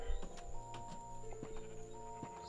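Horses in a stable, with hooves clopping on the floor at irregular intervals and a whinny ringing out close by against a steady background hum.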